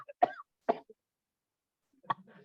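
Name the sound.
person coughing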